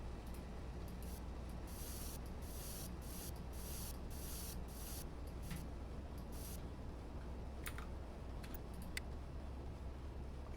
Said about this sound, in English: did that have a spot for me to spray paint on my own building?